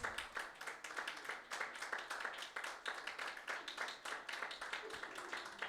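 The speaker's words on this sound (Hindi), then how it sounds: "अपने बाप, अपने बादशाह के लिए तालियां बजाएं" A church congregation claps together in a steady, dense patter of many hands, sustained and fairly even throughout with no pause.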